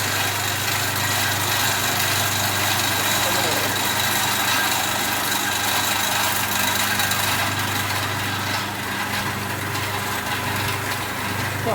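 A single-phase induction motor running under load in a lab test setup, giving a steady loud hum with a constant low tone and broadband whir throughout, with faint background voices.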